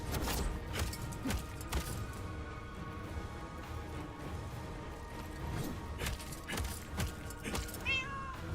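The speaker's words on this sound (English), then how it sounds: "Who let that cat in?" A cat meows repeatedly in the middle of video game play, several drawn-out, wavering cries rising and falling over a dense layer of game noise, fairly loud and close.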